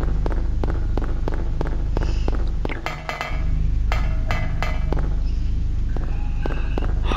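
Hammer strikes in the video game Silent Hill: a series of sharp, evenly spaced metallic impacts, loud and close, repeating in a steady rhythm over a low droning game ambience.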